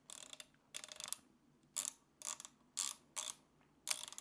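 The top thread tension dial on a sewing machine is turned, giving about seven short, close ratcheting click bursts in an irregular rhythm against near silence.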